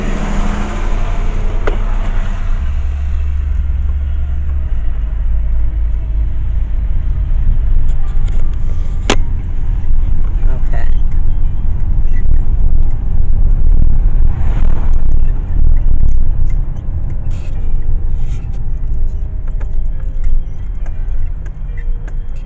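Steady low car engine and road rumble from inside a moving vehicle during a sightseeing drive in St. Louis, continuous and fairly loud throughout, with a faint jingle of keys early on and no talk.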